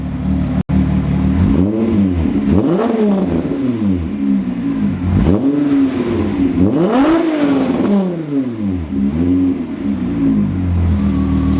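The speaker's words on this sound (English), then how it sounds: "right off the bat, the car revs much faster" A car engine fitted with a new performance chip revs repeatedly, loud and close, climbing and dropping in several rising sweeps, with a sharp click near the start and no talking.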